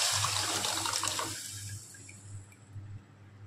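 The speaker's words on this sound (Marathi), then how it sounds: "ते पाणी मी आता याच्यामध्ये टाकणार आहे" Water pours into a cooking pan for a gram-flour curry, a loud close splashing rush for the first second and a half that then thins to a quieter trickle, no voices.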